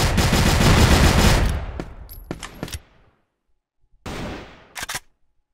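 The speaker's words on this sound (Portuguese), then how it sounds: "O cara tá atirando. Ele dá pra escutar ele atirando." Automatic gunfire in the online shooter CrossFire, a loud rapid burst at first, then a few single cracks, a pause and another short burst with scattered shots.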